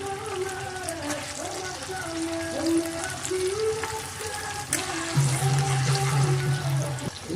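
Green chillies frying in oil with potol (pointed gourd) in a vegetarian curry, a soft continuous sizzle with occasional stirring, heard beneath background voices and tonal sounds.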